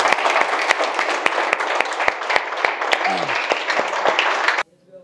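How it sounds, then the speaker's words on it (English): A spoken-English class claps for themselves after a batch competition, a brisk, fairly close round of clapping with distinct individual claps that stops abruptly near the end, followed by a brief voice. "please clap for yourself very much"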